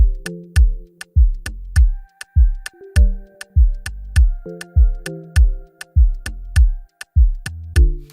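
An Afrobeat bass guitar pattern with short plucked low notes in a steady, syncopated groove, sitting beside a crisp ticking beat that clicks evenly throughout, with sparse higher sustained tones above.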